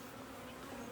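Honey bees at an opened backyard hive during an inspection give off a steady, faint, even buzz throughout, with no voices.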